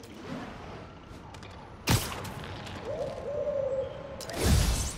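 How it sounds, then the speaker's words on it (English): A pigeon in the Spider-Man video game lets out a loud, drawn-out hooting coo midway, set between sharp whooshing bursts of game action. "It's a loud-ass pigeon, too."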